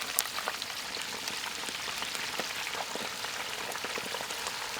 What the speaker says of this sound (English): You hear that sizzle down there?